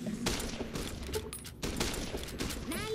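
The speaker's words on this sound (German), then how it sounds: "Das war ein schöner Schuss, Leute." A burst of rapid gunfire in the video game Fallout: New Vegas, many sharp shots in close succession over a noisy, busy background.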